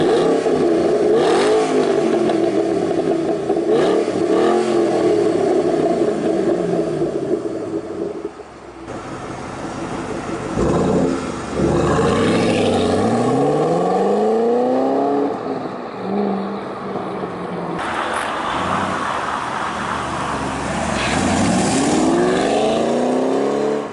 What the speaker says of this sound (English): Got the quad exit exhaust, and that thing sounds mean.